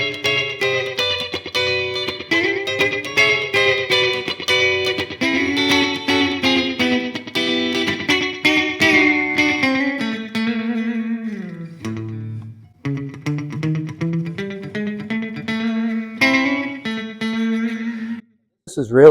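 Gretsch G5655TG electric guitar played through an amp with heavy reverb, melodic lines and chords ringing out with a spacious echoey tail, loud and continuous.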